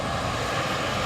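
ATR turboprop airliner descending to land at Dublin Airport, a steady broadband engine roar filling the whole moment at even, fairly loud level with no break.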